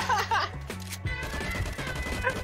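Rapid gunshots ring out in the survival shooter LifeAfter, a quick close burst of shots followed by further scattered firing over game music.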